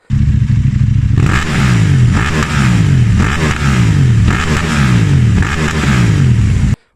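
KTM Duke 790 (2019) with a Remus exhaust, baffle removed, revving hard in repeated bursts, loud and close, with crackly rises and falls about every second before cutting off abruptly.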